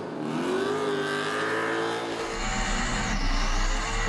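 A burnout car at the Summernats Burnout Masters in Western Australia, its carburetted engine held high against the rev limiter, a loud, sustained close-up roar with a rougher low-end rumble swelling in the second half.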